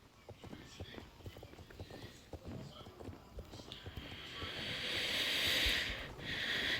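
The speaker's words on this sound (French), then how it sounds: "Il y a vraiment juste les chevaux." Hooves of horses clip-clopping as they walk, in a farm game setting, a run of light rhythmic knocks in the first half before a steady hiss takes over, with faint talk in the background.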